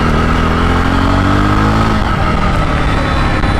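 A Jawa Perak bobber motorcycle engine pulls steadily in first gear, a loud, continuous mid-range drone with a rising pitch that levels off partway through, heard close and alone.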